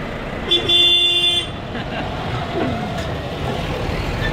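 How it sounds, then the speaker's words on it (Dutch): A truck air horn blasts once, loud and steady for about a second, amid outdoor crowd chatter and traffic noise at a truck event. "noem je dat nog een toeter?"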